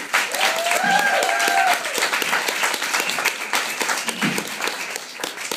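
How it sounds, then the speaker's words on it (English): A comedy club audience applauds as a comedian is welcomed to the stage, steady enthusiastic clapping with a few cheers and voices mixed in, continuing at even loudness throughout. "Ladies and gentlemen, please huge round of applause."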